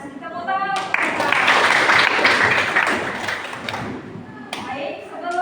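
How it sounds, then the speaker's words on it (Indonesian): A group claps together in a burst of applause lasting a few seconds, with a voice speaking before and after, during a teacher coaching session. "Tepuk tangan untuk mereka."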